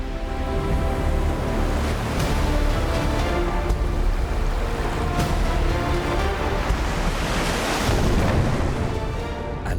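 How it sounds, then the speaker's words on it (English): Ocean waves crash continuously along a coast, a loud, dense roar of surf and churning water with rising surges, mixed with wind buffeting, and no voices. "Making the waves even more dangerous."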